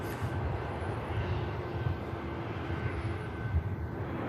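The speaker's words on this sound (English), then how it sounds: "This aircraft's just arriving in from Marrakesh" Airliner arriving from Marrakesh at Manchester Airport, heard as a distant, steady jet roar that holds at a low level throughout, with no voices.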